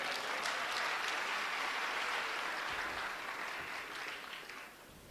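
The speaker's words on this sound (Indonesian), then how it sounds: "Tepuk tangan untuk beliau." A gathering of Islamic boarding school students claps for a deputy regent during a religious sermon, a sustained wash of applause that slowly tapers off near the end.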